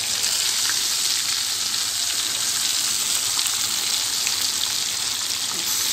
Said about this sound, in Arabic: الزيت إلي غلي اهو، هبدا احط السمك